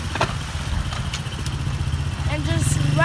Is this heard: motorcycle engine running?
yes